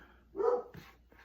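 Single short dog bark outdoors, moderately faint and somewhat distant, followed by a softer yip.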